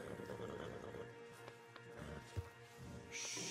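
A horse in the Red Dead Redemption 2 video game whinnies and snorts amid soft clip-clopping hooves and a steady ambient bed, with one sharper thump near the end and no talk over it.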